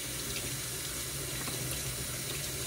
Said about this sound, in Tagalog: paliliguan ko muna siya sa tubig, basain ko siya